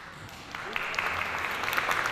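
Audience applause at a live Hindi musical show, a steady wash of clapping that swells slightly and stays dense, moderately loud and continuous.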